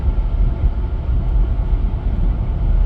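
A Jeep Gladiator cruising in 8th gear at about 2,000 RPM and 100 km/h, heard as a steady, loud low drone of engine and road noise inside the cab, with no talk.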